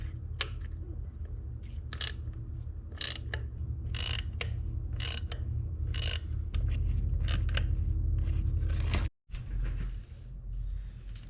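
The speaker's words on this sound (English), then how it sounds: "I'm gonna hit it with the torque wrench here" Torque wrench tightening bolts on a Chevrolet Silverado in a garage, a run of sharp ratcheting clicks and mechanical clatter over a steady low hum, close and fairly loud, with a brief dropout near the end.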